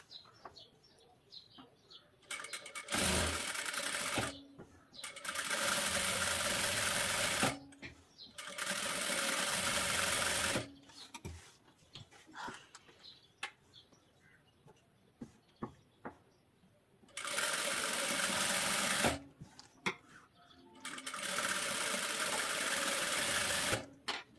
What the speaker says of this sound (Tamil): இந்த லைன்ல அப்படியே ஸ்டிச் பண்ணிட்டு வரணும்.